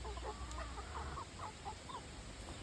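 Hens cluck in soft, scattered bursts at a homestead coop, heard from a little distance over a steady low background hum, with no voices.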